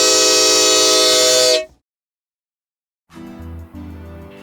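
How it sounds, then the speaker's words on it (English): A loud, steady homemade train horn built from water bottles, drinking straws and cone cups blasts with stacked tones for about a second and a half, cuts to silence, then rougher handling noises and a lower tone follow. "How do you make a train horn out of water bottles, drinking straws, and cone cups?"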